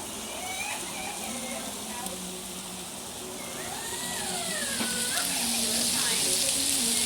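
Paella sizzling on a Blackstone flat-top griddle, a steady soft crackle and hiss that swells slightly toward the end, with faint talking in the background.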